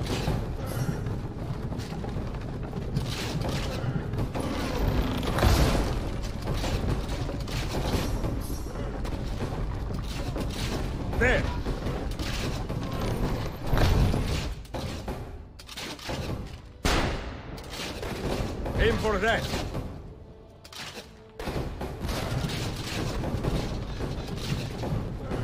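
Cannon fire and gunfire in Assassin's Creed Revelations, heard as a dense barrage of booms and bursts with no pause, loud and close throughout.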